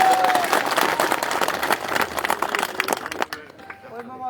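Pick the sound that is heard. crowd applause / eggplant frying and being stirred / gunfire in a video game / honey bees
crowd applause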